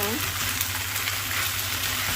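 Loud, continuous sizzling of udon noodles and vegetables stir-frying with soy sauce in a pan, a dense hiss that stays steady from start to finish.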